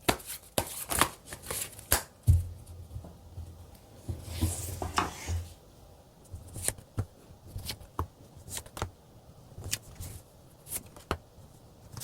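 Tarot cards are shuffled and drawn by hand, giving irregular sharp riffling snaps and soft slides up close across several seconds, with quiet gaps between bursts.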